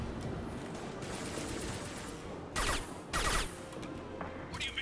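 Gunfire from a weapon in the video game Mass Effect 2, heard as a busy layer of distant shots under game sounds, with two louder, sharper bursts standing out near the end.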